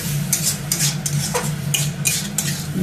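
Spinach being stirred in a cooking pan over high flame, with a steady wet sizzle and repeated scraping strokes of a utensil, up close and with no talking.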